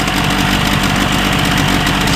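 A 1980s 40hp two-stroke outboard motor idles steadily while run on a flushing hose, giving a close, continuous low burble with a rapid, even knocking pulse throughout.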